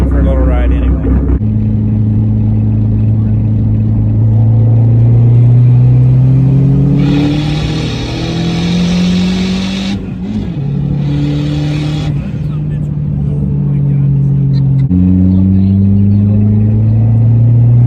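A big-turbo Dodge SRT-4 being driven, its engine loud and close, droning steadily and rising through the gears in repeated pulls, with brief shifts and bursts of turbo whoosh, no talk.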